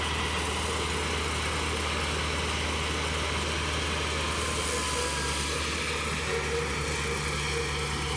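A Tar River drum mower cuts hay with a steady, droning engine hum and the constant whir of the drums, loud and unbroken, with no pauses or talk.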